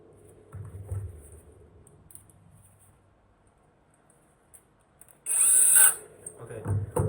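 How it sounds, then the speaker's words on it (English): A power tool drives screws into a Floatwheel ADV2 electric board, a single loud whirring burst of under a second standing out near the end after quiet handling noises. "Put it in here and use the power tool."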